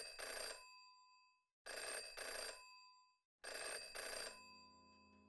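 Old-style telephone bell ringing in the Jenny LeClue video game, three loud close bursts separated by short pauses, the last fading into a soft musical tone.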